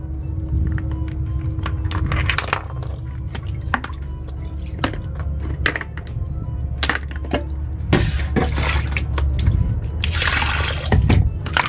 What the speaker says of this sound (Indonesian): Kita cuci terlebih dahulu teman-teman